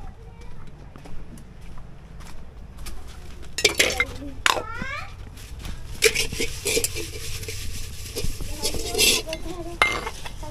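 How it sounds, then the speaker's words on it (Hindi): Dishes and utensils being washed at an outdoor picnic: metal pots, plates and cutlery clink and clatter in irregular bursts, with water splashing and people talking throughout. "जल्दी जल्दी से मैं बर्तन धो लूं"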